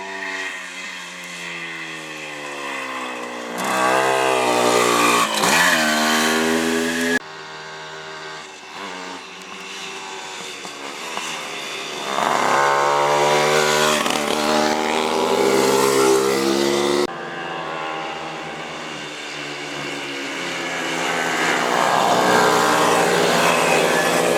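Old two-stroke motorcycles, Montesa Impala, Ossa and Bultaco, rev loudly at the Impalada 2012 rally, with repeated blips and rising, falling engine notes from several bikes at close range, cutting in and out in bursts.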